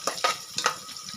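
Biryani masala sautéing in a pot for chicken biryani gives a gentle sizzle with three or four quick stirring scrapes in about a second.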